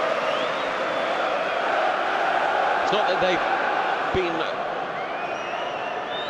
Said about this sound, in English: a supportive response from the crowd